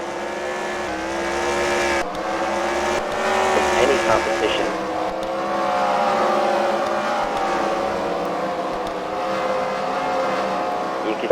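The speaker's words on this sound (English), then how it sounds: "The checker car for the Intimidators trying to run down the leader here, who is a ways away" Race cars run laps at a CWRL Fight Night event at The Freedom Factory oval, engines droning steadily and loudly throughout while a commentator talks over them.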